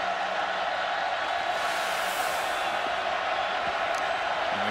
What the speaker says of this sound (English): the crowd here at Lavelle Edwards Stadium comes alive, looking to rally support for their defense